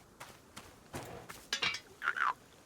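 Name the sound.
frog-like croak from a plant out of water, from video game Wanderstop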